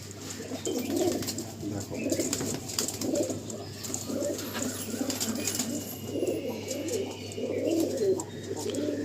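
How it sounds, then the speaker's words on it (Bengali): Pure red Andhra high-flying pigeons, a male and female pair, coo steadily in rounded, repeating phrases over a constant low hum, with a brief spoken word. "লাল সিরা, পিওর লাল সিরা পায়রা আন্ধ্রা"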